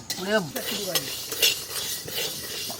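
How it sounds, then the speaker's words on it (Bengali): Moong dal and poppy seeds dry-fry in a pan ahead of making khichuri, with a spatula scraping and stirring in quick irregular strokes over a faint sizzle, close and fairly quiet, and no voices. "মুগের ডালটা আমরা সুন্দর করে ভেজে নেব"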